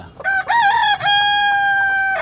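A chicken in a coop gives one loud, near call that sounds like a rooster's crow. It starts with short rising notes, then holds a long, steady tone for over a second, with no talk.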